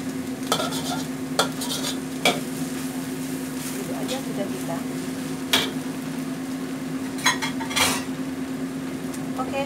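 A metal utensil cuts and stirs an egg and mushroom omelette with spring onion in a frying pan, giving sharp scraping clicks and taps over a faint sizzle while a person talks throughout.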